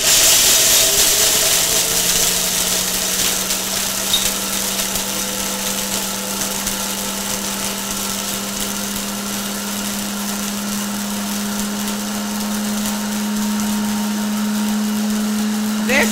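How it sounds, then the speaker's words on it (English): Kitchen blender grinding parched corn for chili bibi, a steady loud whirring motor drone with a rough grinding texture, running continuously and close throughout. "and the blender is on now"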